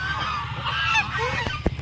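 Geese or ducks at a zoo honk repeatedly in a noisy, overlapping chorus, loud and close, with a few sharper calls near the end.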